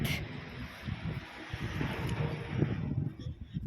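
Steady low rumbling warm wind buffeting a microphone outdoors in Germany, continuous and fairly loud with gusty swells throughout, no one speaking.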